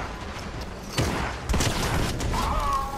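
In Fortnite, sharp sniper rifle shots ring out, two or three distinct loud cracks about half a second apart among other gunfire and game noise.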